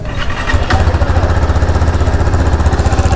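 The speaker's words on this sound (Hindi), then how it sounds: "एक ये एग्जॉस्ट है, जो एग्जॉस्ट चेंज हुआ है। अगर एग्जॉस्ट की तुम्हें साउंड सुननी है तो सुनो," A 2023 KTM RC 390 BS6 motorcycle fitted with a changed exhaust idles inside a showroom, producing a loud, close, rapid low-pitched thumping pulse that stays steady without revving.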